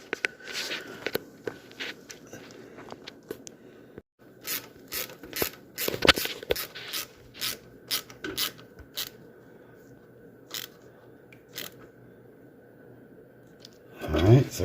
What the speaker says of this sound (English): And then we're going to put our bolts in.